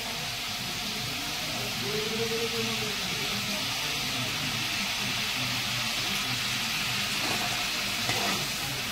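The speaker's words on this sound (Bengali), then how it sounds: "আমার ঝোলটা ফুটে গেছে, এবার আমি মাছটা দিয়ে দেবো।" Sour-spicy koi fish curry broth boils in a pan, giving a steady, even hiss with soft bubbling throughout, close and moderately loud with no talking.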